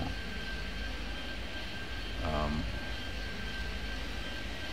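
An airplane landing in the video game Airport Madness 3D, heard as a steady, even engine drone throughout, with a man's brief murmur partway through.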